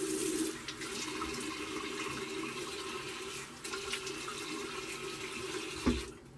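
Water runs steadily from a bathroom tap while the face is wetted before a shave, a moderate continuous splashing stream that ends abruptly after a brief clunk.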